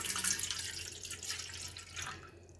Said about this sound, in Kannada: ಸೊ ಈ ಕಪ್ಪಲ್ಲಿ 1 ಲೋಟ ನೀರನ್ನ ಹಾಕ್ಕೊಳ್ತಾ ಇದ್ದೀನಿ